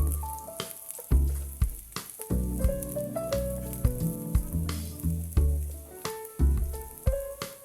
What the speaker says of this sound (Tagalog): isalad natin itong bawang. Halo-haloin din natin ito hanggang sa maging golden brown